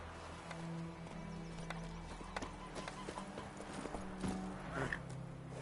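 Hooves of Roach, Geralt's horse in The Witcher 3, clip-clopping in a steady walking rhythm at moderate distance, with a brief whinny and soft game ambience.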